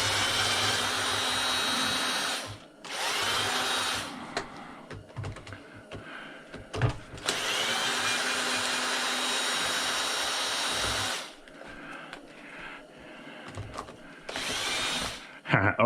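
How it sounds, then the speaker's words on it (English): A power screwdriver whirs in repeated bursts, some several seconds long, while removing screws from a chop saw during a teardown, with clicks and handling noises in the quiet gaps between runs. "Get all these screws out of here."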